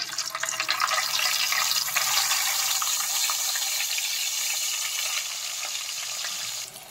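Dry salted fish frying in hot oil with a little turmeric, giving a steady, close, hissing sizzle throughout that drops away at the very end, with no talking.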